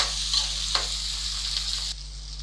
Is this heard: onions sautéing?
yes